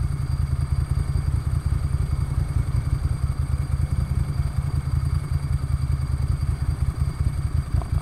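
A 1994 Ducati 900 Supersport with an air-oil cooled engine runs at low revs while being turned around, its steady throbbing pulse close and continuous throughout, with no talk.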